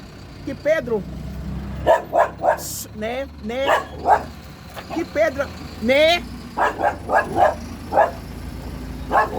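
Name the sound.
dog barking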